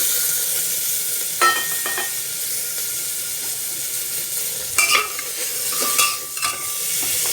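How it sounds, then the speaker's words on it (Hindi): Beetroot, tomato and carrot pieces frying in a pan for beetroot soup give a steady soft sizzle and hiss, broken by a few sharp clinks and scrapes of a spoon stirring, with no voices. "और इसको थोड़ा सा ही फ्राई कर लेंगे"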